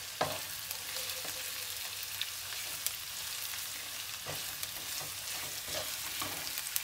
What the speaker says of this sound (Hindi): स्वीट कॉर्न डालकर थोड़ी देर इसे पका लेंगे